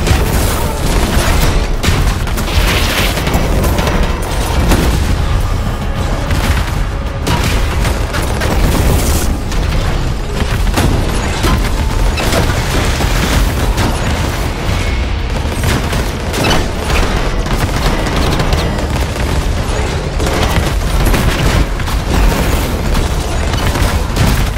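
Rocket blasts and gunfire in the game Anthem, a dense, loud, continuous barrage of booms and bursts with no let-up, close and heavy throughout.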